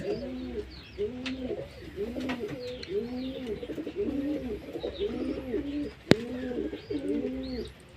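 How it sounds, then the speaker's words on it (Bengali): Domestic pigeons coo repeatedly while feeding, rhythmic throaty calls overlapping close by, with a sharp click near the end. "দেখুন বন্ধুরা কেমন পায়রাগুলো খাচ্ছে"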